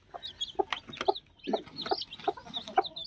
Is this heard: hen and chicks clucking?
yes